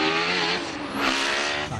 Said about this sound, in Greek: Τα γρήγορα περάσματα και ο ήχος των κινητήρων δεν γίνεται να κρατήσουν για πολλή ώρα κρυφή την κόντρα.